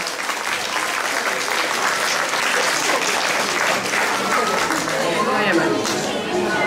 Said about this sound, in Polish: Państwo biją brawo, tak? Brawo, brawo.